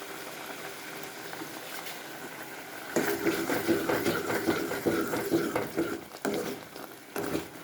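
Spicy-sweet mango pachadi bubbles and sizzles in a pan, a soft steady simmer that grows busier and louder partway through, close by with no talk.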